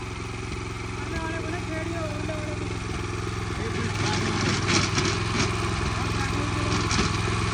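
A Rico Italy 9 HP rotavator engine tills hard soil, giving a steady close-range mechanical drone that grows louder with rough bursts partway through, while people talk over it.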